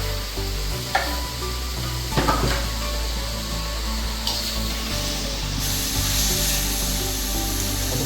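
Octopus and eggplant sizzle and fry in a pan for a Seychelles-style curry, giving a steady hiss with occasional scraping and stirring knocks from close by, no voices.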